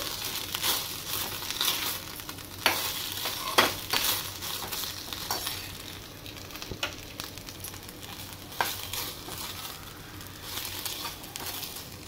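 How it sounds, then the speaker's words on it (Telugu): Rice manchurian frying in a pan while being stirred, a continuous sizzle broken by repeated scraping and crinkling strokes, no voices. "ఇదిగోనండి ఇలా 2 మినిట్స్ వేగించిన తర్వాత కొత్తిమీర వేసుకుని మరొకసారి కలుపుకొని స్టవ్ ఆఫ్ చేసుకోవచ్చండి"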